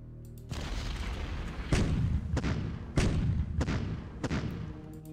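Artillery fire from the strategy war game Decisive Campaigns: Ardennes Offensive, a steady rumbling barrage with several heavy booming impacts spaced a second or so apart, loud and close.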